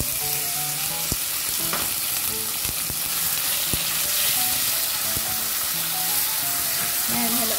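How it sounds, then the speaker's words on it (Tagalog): Marinated meat hits hot oil with browned garlic, keeping up a dense, loud sizzle throughout, with scattered clicks and scrapes of a utensil moving the pieces around the pan. "Pagka brown ng garlic at may amoy na, ilagay natin ang na-marinate natin na karne"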